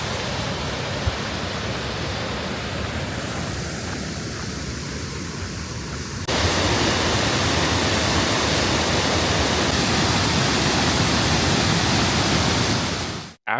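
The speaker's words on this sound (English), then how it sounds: "This is a waterfall," A waterfall near Geiranger, Norway, roars as a dense, continuous rush of falling water, close and loud, growing stronger partway through and holding steady until it cuts off.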